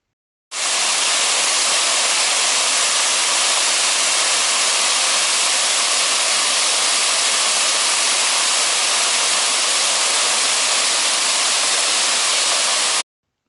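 Water pours steadily over an old weir of layered concrete capped with sandstone in a wooded glen near Lochwinnoch, a loud, even, unbroken rushing roar that runs for about twelve seconds, close and with no voices.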